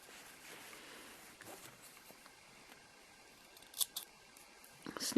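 Scissors snip off a crochet yarn tail on a granny square: a few quiet, sharp clicks come late, with soft handling rustle before them.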